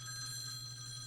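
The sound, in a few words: phones buzzing and ringing, from video game Tokyo Babel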